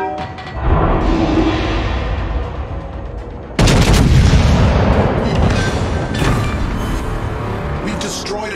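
Heavy naval guns in a battleship video game: a deep, sustained roar that breaks into a loud, abrupt blast partway through, followed by rumbling booms, with voices talking over it.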